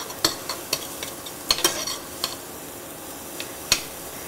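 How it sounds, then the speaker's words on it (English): Food sautéing in a pan while a cook stirs it, with a quiet steady sizzle broken by a handful of sharp utensil scrapes and clinks against the pan. "we'll just let this saute for another moment"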